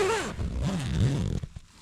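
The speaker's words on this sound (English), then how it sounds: "There's a wee bottom zipper." The small bottom zipper of a Wild Country Helm Compact 1 tent is pulled shut at a loch-side wild camp in Scotland. It gives a close, continuous rasping zip that ends in a few short tugs and rustles.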